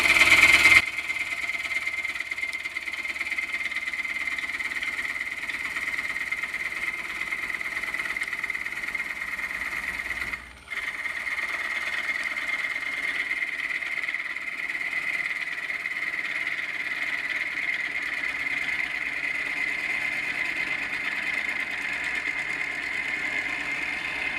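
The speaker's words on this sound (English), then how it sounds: "Rub the bevel. Still gives you really nice shavings." A bowl gouge cuts wood shavings on a lathe, the tool rubbing its bevel: a steady whining hum runs throughout, one brief dip near the middle, with no talk.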